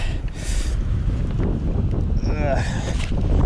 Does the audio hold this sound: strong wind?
yes